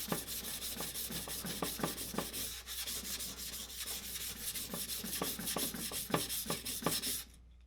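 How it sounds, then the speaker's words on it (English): Steady abrasive scraping as the bevel of a chipped Japanese kitchen knife is ground thin, close and continuous with rhythmic strokes before stopping abruptly at the end. "when you're grinding the bevel, make sure you want to do it evenly throughout the bevel."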